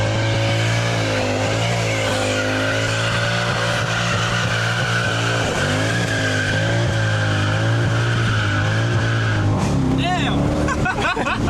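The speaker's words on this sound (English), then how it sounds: "if we do a burnout, they'll like re-break in and they'll be good as new" A Mercedes-Benz W204 C63 507 does a tire burnout: a loud, close, sustained engine roar and screeching tire squeal hold for about ten seconds, then the sound shifts abruptly into a rougher, wavering squeal.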